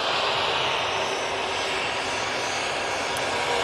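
A KLM airliner at Manchester Airport produces a steady, broadband jet engine roar with a high whine, loud and continuous, with no voices over it.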